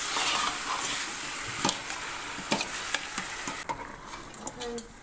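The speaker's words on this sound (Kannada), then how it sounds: "ಚೆನ್ನಾಗಿ ಮಿಕ್ಸ್ ಮಾಡಿ ಒಗ್ಗರಣೆಲೆ ಸ್ವಲ್ಪ ಹೊತ್ತು ಬೇಯಿಸ್ಕೋಬೇಕು" Country chicken frying in a spice tempering, a steady close sizzle with scraping stirs and a few sharp clicks of a utensil against the pan; no voices.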